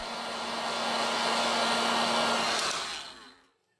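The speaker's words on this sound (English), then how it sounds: "With the help of the heat gun, we apply 19 Celsius degrees during 4 minutes." Heat gun blowing hot air onto an OPPO RX17 phone during a teardown, a steady close whooshing roar that runs for several seconds and then fades out as it is switched off.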